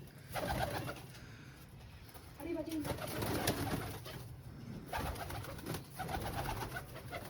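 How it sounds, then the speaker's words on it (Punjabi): Pigeons coo repeatedly in low, soft, throaty phrases amid a busy outdoor background, with some distant voices mixed in. "ਕਬੂਤਰ ਕਬੂਤਰ ਬਹੁਤ ਨੇ ਬਈ"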